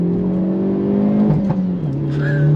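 A 2023 Hyundai Elantra N accelerates under hard throttle, its engine holding a steady, loud, close drone that dips briefly as the revs shift, with a faint high whine near the end.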